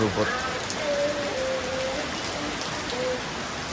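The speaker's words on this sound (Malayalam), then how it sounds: "നല്ല മഴയാണ് കേസ്, നല്ല മഴയാണ്" Heavy rain pours down steadily in a dense, unbroken hiss, with faint voices far in the background.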